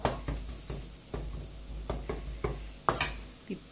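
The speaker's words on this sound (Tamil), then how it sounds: "மிளகாத்தூள், மிளகுத்தூள், சாட் மசாலா போட்டு சின்னதாக வதக்குங்க." Chili powder, pepper powder and chaat masala are sautéed in a pan for chunky egg bread, with a spatula scraping in a steady rhythm of about two strokes a second over a soft sizzle, ending in a sharper clatter.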